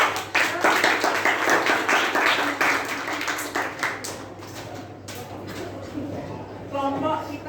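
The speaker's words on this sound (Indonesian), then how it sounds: "Tepuk tangan teman." A classroom of students claps hands together in a sustained, somewhat loose round of applause that slowly thins out, with a steady background hum and faint voices.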